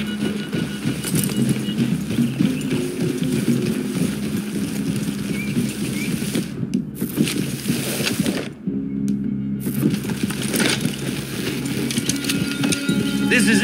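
Horses walking with clip-clop hoofbeats in a Red Dead Redemption 2 scene, a steady rhythm of hooves mixed with wind and ambient game sound, with brief gaps of near silence.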